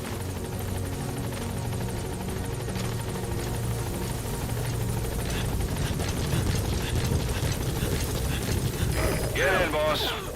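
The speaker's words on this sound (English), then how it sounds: "Support helicopter has arrived." Support helicopter in the video game Metal Gear Solid V, a steady loud rotor drone and engine hum running throughout, with game radio voices speaking over it.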